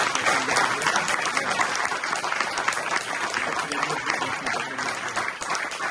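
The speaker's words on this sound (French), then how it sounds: "Merci, on les applaudit beaucoup" Steady applause from an audience at a mayor's New Year greetings in Langeac, a dense, even wash of many hands clapping close by and sustained throughout without a break.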